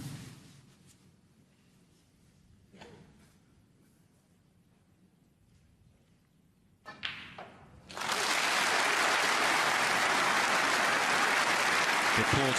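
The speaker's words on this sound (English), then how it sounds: "The applause is for Ryan Day" An audience at the 2018 German Masters snooker quarter-final bursts into loud, sustained applause after a long quiet stretch of faint room tone and a few soft thumps, and the clapping carries on to the end.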